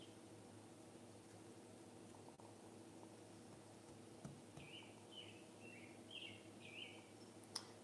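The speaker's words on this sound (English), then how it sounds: "You guys hear the bird?" Small bird chirping in quiet surroundings, several short high chirps in the second half, faint and intermittent over a low steady background hum.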